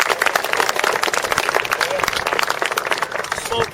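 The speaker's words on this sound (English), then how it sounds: "Round of applause." An audience gives a round of applause at a war-themed reenactment weekend, a dense burst of clapping heard close and fairly loud, with crowd voices mixed in.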